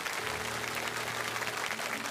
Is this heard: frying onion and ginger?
no